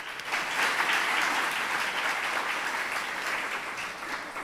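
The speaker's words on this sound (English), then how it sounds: "let's go ahead and give him a round of applause" An audience applauds Orlando Mayor Buddy Dyer at his State of Downtown address, a steady wash of many hands clapping, moderately distant and without talk.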